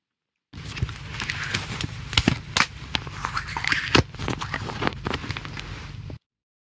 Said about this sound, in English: It's the sound of somebody putting on diving goggles.